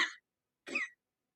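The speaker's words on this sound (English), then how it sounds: "oh no, I'm going to start coughing again." Two short, dry coughs, separated by a brief pause, close and fairly quiet with silence around them.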